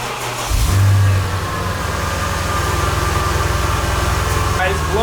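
A Mercedes SL550 with a suspected blown head gasket cranks and fires up for its first start, a loud catch and rev that settles into a steady, rumbling idle, with a brief higher sound near the end.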